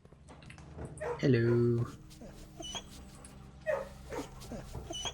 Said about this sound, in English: I don't know who the hell left these dogs in here.